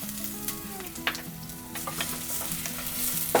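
Shallots frying in oil in a clay pot give a steady soft sizzle, with scattered crackles and scraping stir strokes; no voices.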